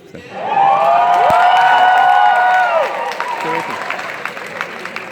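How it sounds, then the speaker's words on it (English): Warm applause and cheering fill a graduation ceremony hall, a loud, steady wash of clapping with whoops from the audience that gradually thins toward the end. "Thank you for the warm applause"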